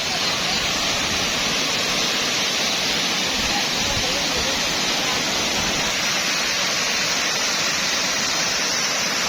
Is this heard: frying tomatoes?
no